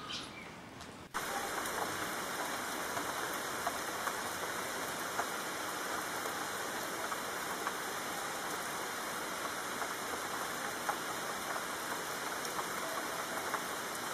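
Rain pours onto a street lined with small bars in the Numazu Ginza-dori area of Numazu, Shizuoka, a dense, even hiss of drops that holds steady throughout with no voices.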